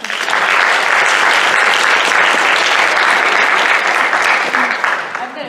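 Loud, sustained audience applause welcoming a speaker to the stage at a makeup training event, a full continuous wash of clapping that tapers slightly at the end.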